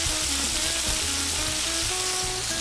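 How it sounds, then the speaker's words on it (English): Onion, bell pepper and celery fry with chicken in a pan, a loud, steady sizzle with faint stirring and a light background hum, no talk. "toss in our onion, bell pepper, and celery with that chicken as it cooks"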